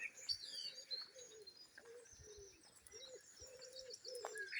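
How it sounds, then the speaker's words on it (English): A wood pigeon coos in a steady, repeated rhythm while blackbirds sing bright, fluttering phrases above it in a dawn chorus just after 5 AM, all somewhat distant and quiet in an open outdoor space. "We've got a wood pigeon in the background,"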